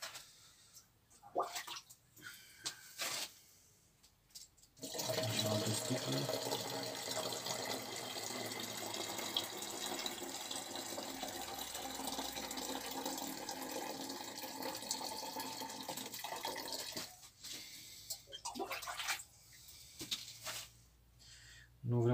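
Tap water runs steadily into a bottle for about twelve seconds to mix homemade windshield washer fluid from spirit and water, with quieter handling noises and a voice before and after.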